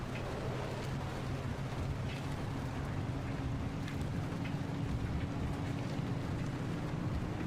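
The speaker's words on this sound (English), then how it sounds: "This is a lot of rain." Heavy rain pounds a car driving in Pacific Drive: a steady, dense, unbroken hiss over a low rumble, with no one speaking.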